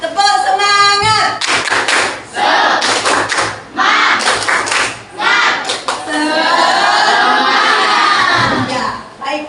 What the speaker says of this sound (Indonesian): Mari 1, 2, 3 tepuk semangat.